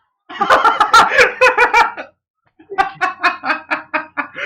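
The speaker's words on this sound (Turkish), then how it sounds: "Şurada da bir dodo var." Dodo in the ARK survival video game giving a run of rapid clucking calls, two bursts of rhythmic, close, fairly loud chicken-like squawks separated by a short pause.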